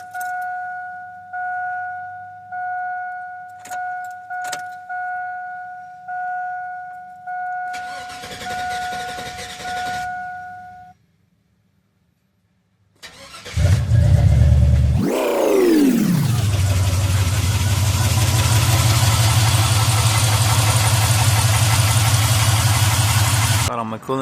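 A Vortec LS 5.3 liter V8 starting up for the first time. A pulsing fuel-pump prime and beeping tones come first, then a pause. The engine cranks, fires with a loud rev and settles into a steady close idle.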